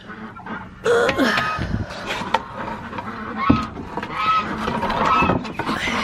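Geese honk in scattered bursts amid shuffling and rustling noise, fairly close, with no one speaking.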